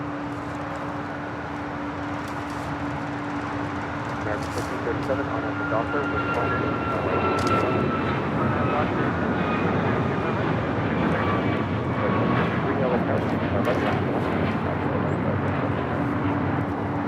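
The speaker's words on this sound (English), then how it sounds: "This is Alaska for 22, taking off to Tampa, Florida on a MAX 9." Alaska Airlines Boeing 737 MAX 9 taking off at LAX, a steady broad jet engine roar heard from a distance that swells gradually and holds, with someone talking over it.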